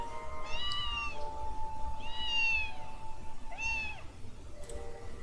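A cat meows repeatedly in the game Princess Evangile, three or four drawn-out, plaintive mews in steady succession over a faint constant background hum, with no talking.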